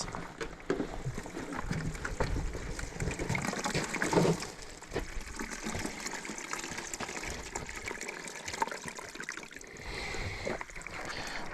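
Five gallons of slimy gel pour and slosh out, a continuous wet gushing with gloopy surges and a few louder splashes, fairly close and steady throughout, with no voices.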